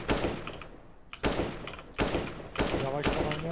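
Gunfire in a video game shooter, several bursts of rapid shots separated by short pauses, loud and close, with voices talking over parts of it.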